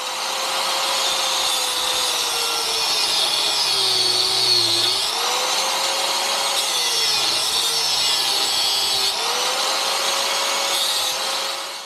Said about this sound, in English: the plan is to use an angle grinder to turn this round knob into a square one